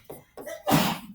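A single sharp sneeze bursts out loud and close in a classroom, preceded by a couple of short breathy intakes.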